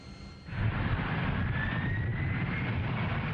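Jet engines roar at UPS Worldport, a steady broadband rumble that swells sharply after a quiet first half-second and then holds loud and continuous, with a faint rising whine threading through it.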